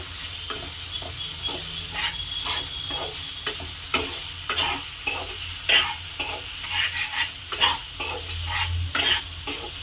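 Potatoes, raw rice and spices stir-fried over low to medium gas for a muri ghonto, with a continuous close sizzle and a rhythmic series of scraping spatula strokes across the pan.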